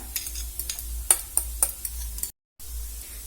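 Mashed boiled potato being stirred into samosa masala in a hot pan, with a low sizzle of frying under irregular scraping and stirring knocks, close and fairly loud, with a brief silent gap near the end.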